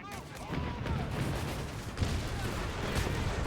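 Artillery barrage in Company of Heroes 3, a dense continuous rumble of booms and distant blasts layered with battle noise and a few whistling tones, with voices faintly mixed in.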